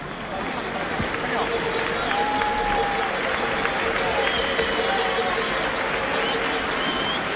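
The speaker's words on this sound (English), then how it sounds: "And applause, let it be noted, from the Spanish crowd, not the boos and whistles we get from Wembley." A Spanish crowd applauds at a football match, a steady, distant roar of clapping from a big stadium throughout, with a commentator talking over it.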